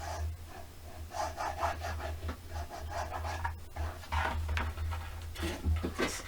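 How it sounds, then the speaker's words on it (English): A bone folder burnishes paper along the side of a handmade box, making repeated close, dry rubbing and scraping strokes in uneven bursts, with light clatter between passes. "I'm taking my bone folder and burnishing"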